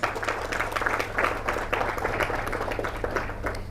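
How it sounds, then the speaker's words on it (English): An audience applauding steadily at a pension working breakfast, dense clapping that holds at an even level throughout with no voices over it. "May we all give them a loud applause."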